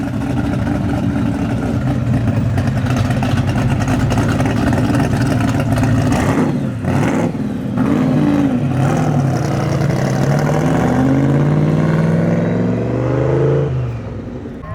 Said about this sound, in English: Corvette sounds amazing.